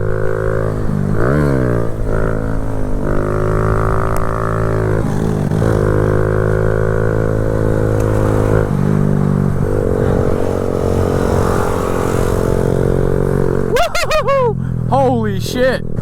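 A Kawasaki Z125 motorcycle revs hard through the gears, its loud close engine climbing and dropping in pitch with each shift, ending in quick rising revs.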